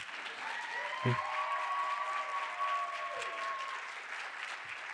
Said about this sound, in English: clap for Ivana